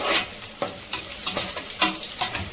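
Whole garam masala spices and bay leaves frying in hot oil in a pan for basmati mutton biryani, a steady sizzle broken by several sharp stirring scrapes, close and moderately loud with no talking.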